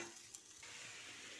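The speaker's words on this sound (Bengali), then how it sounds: "ফুলকপিগুলো আগে ভেজে তুলে রাখব" Cauliflower pieces dusted with salt and turmeric fry in hot oil, a steady broadband sizzle that carries evenly throughout without a break.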